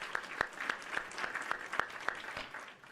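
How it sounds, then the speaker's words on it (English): Sparse applause from a small group, with about ten distinct claps spaced irregularly over a few seconds, fairly faint and heard alone. "Oh, and JD, the applause on this, too, goes to you"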